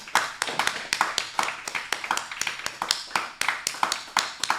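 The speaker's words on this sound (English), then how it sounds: "Round of applause for Lauren" A small group claps for a podcast guest, the individual hand claps distinct and close, coming in uneven bursts rather than a dense roar.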